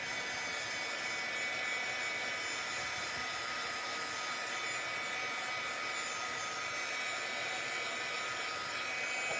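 A handheld heat tool blows hot air in a steady, loud whoosh to dry a piece, continuous and close with no talking.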